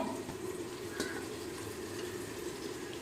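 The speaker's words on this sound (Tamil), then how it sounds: "இப்போ இதை நல்லா கிண்டி விட்டுக்கும்" A mushroom biryani mixture with peas being stirred in a pan, giving a steady soft sizzle and a faint scraping stir throughout, with no voices.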